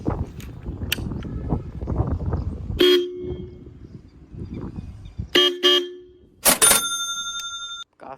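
Truck-style air horn fitted to a Hero Splendor motorbike blasts several times: a long honk, then two more short bursts and a final loud blast, each clear and close with quiet gaps between.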